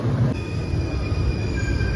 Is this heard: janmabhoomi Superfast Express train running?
yes